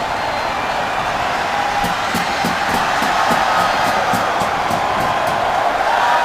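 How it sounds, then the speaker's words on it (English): An NFL preseason stadium crowd at FedEx Field roaring as a wave sweeps around the stands, a broad sustained wash of cheering with a series of rhythmic claps or bangs mixed in. "So this crowd at FedEx Field's got a nice wave going on"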